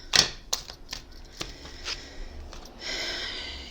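Tarot cards being shuffled by hand during a reading: a quick series of soft, crisp card snaps and riffles close by, ending in a steadier papery rustle, with no talking.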